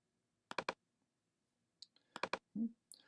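A computer mouse clicks in short, sharp clusters of two or three taps, with quiet pauses between bursts in a silent room.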